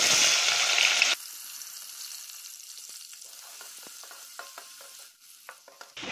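Half an onion dropped into hot oil for hotel-style misal pav sets off a loud, bright sizzle for about a second, then settles into a steady quieter frying hiss with soft stirring scrapes.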